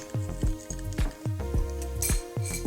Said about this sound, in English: let's stir these seasons up with my favorite little spoon